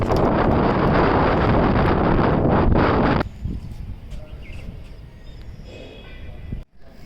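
Strong wind roars and buffets the microphone for a few seconds, then drops away to a quieter outdoor hush.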